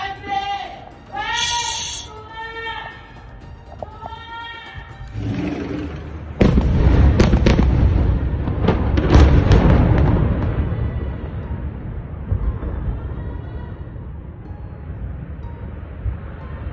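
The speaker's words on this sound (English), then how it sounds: "A video from IDF strikes in Sidon, Lebanon shows massive secondary explosions." Shouting voices give way to a loud, sustained series of blasts and crackling explosions from an airstrike on an ammunition dump in Sidon, Lebanon, rumbling and popping repeatedly before fading into a lingering roar.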